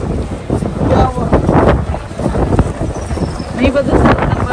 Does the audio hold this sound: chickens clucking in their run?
no